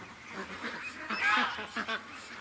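Ducks quack and call in a loose, irregular chatter on a lake, several close bursts overlapping and rising briefly in the middle before tapering off.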